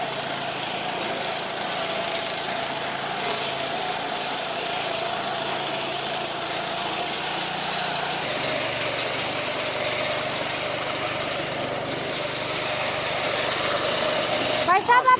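A power reaper paddy harvesting machine's small engine runs steadily up close with a constant droning hum, rising slightly near the end.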